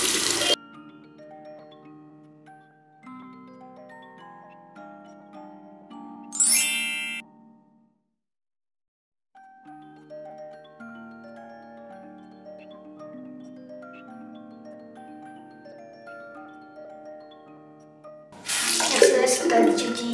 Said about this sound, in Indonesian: Yuk kita cuci setelah hasilnya 15 menit